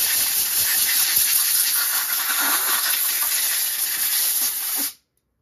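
Compressed air line blasting onto a Honda C70 motorcycle engine to cool it, a loud, close, steady hiss that holds for about five seconds and then cuts off abruptly.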